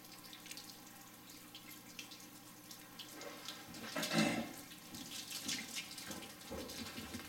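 Liquid drains from a valve on an Ss Brewtech BME Chronical fermenter into a drain, a steady close trickle and splash that swells briefly midway, with no talking.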